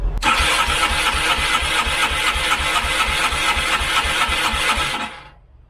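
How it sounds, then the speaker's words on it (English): A motorcycle engine cranks steadily on the starter in 44-degree cold, a continuous whirring, grinding drone that never catches and then cuts off abruptly. "The temperature's at a balmy 44 degrees or so, and the bike absolutely refuses to start."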